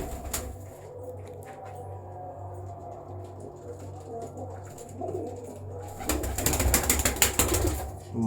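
Pigeons of a prized breeding line coo softly in a loft, low repeated calls under light background noise, then a sudden louder burst of wing flapping and scuffling near the end.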